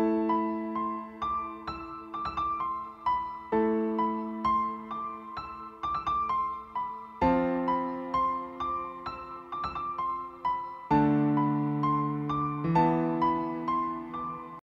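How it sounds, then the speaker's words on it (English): Piano loop of a chord progression with top notes, each chord struck and left to ring and decay in a steady repeating pattern, clear and alone without any voice. "So I just imported this piano loop that sounds like this."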